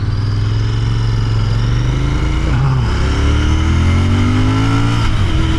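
A Royal Enfield Continental GT 650 motorcycle's 650 cc engine rumbles loudly up close, then revs up as it accelerates, its pitch climbing steadily over several seconds.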